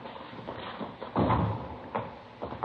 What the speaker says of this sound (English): I'll get the door.